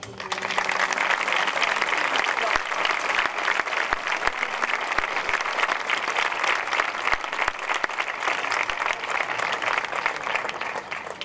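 Neighbours, friends and colleagues at a Sant Jordi festival proclamation give sustained, loud applause that fills the hall without pause for over ten seconds.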